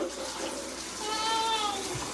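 Water runs from a tap as a bath is readied for a baby at home, a steady splashing stream with a faint tonal whine rising midway, fairly close and alone.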